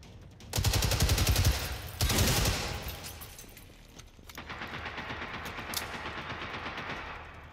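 Rapid automatic gunfire in a shooter video game hammers out in two loud, close bursts, then trails into quieter, more distant continuous firing with no one talking.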